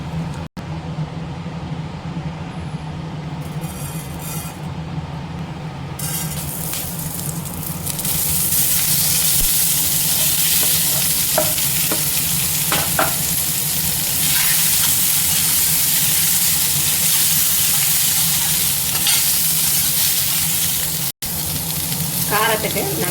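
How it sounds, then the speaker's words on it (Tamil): Potatoes fry in an earthenware pan with a steady, loud sizzle that gets brighter and fuller partway through, broken by occasional stirring clatter. "இதை இறக்கி வச்சுட்டு நம்ம உருளைக்கிழங்கு வறுத்துக்கலாம்"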